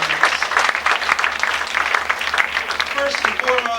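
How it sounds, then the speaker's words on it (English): A comedy club audience gives a round of applause at a stand-up show, dense, fairly loud and sustained clapping throughout, with a faint voice and crowd murmur mixed in. "Let's have another round of applause for everyone you've seen here tonight."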